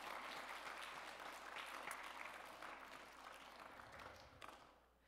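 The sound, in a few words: church congregation applauding the children's praise song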